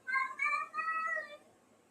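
A cat meows two or three times in a row, close and fairly loud, each call drawn out and rising and falling before the last one fades.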